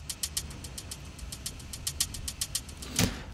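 A synthesizer plays a steady run of short, evenly spaced pulsing notes, each opened and closed by an envelope-controlled filter, ending in one brighter, louder hit.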